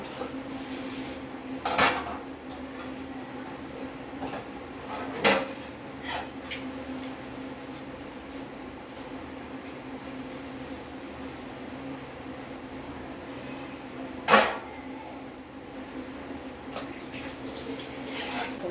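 Dishes, pots and utensils being washed in a sink, with steady running water and a few sharp clinks of metal and crockery standing out now and then.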